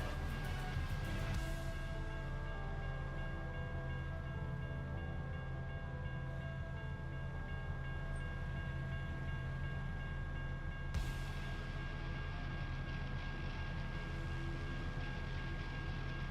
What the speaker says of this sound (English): Where's this train coming from